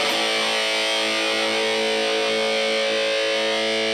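Electric guitar, a Tele-Star 5002, played through a DRV distortion pedal with other effects, a single struck chord ringing out thick and sustained at steady level for a few seconds, with no voices.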